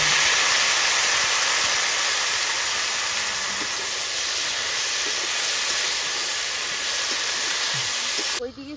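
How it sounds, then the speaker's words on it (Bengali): Garlic tempering sizzling in leftover fish-frying oil, a loud steady hiss of frying that runs unbroken for several seconds, with faint talk in the background, before cutting off near the end. "মাছ ভাজা তেলে আমি এখন কচুলুচি রান্না করব"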